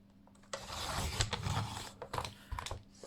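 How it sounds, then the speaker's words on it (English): Dull blade dragging and catching as it trims the edges of a small handmade book, close rough scraping and rasping in uneven strokes with brief halts, no talking. "listen to that blunt blade getting stuck"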